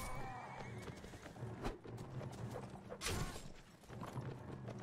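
A horse neighs and gallops in the video game Mount and Blade: Warband. A sharp whinny bursts out near the middle over busy battle noise and hoofbeats, with a second surge toward the end.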